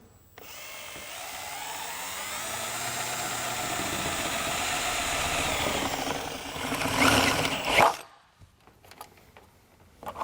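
A power drill bores a hole through the sheet metal of a 2014 vehicle near the tail light, with a loud, steady whine rising in strain before breaking through and stopping, followed by a few faint clicks.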